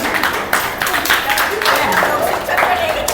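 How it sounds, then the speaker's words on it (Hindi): Audience at a yoga session clapping loudly, a dense burst of applause lasting a few seconds with speech over it. "क्या बात है, जोरदार तालियां बजाओ।"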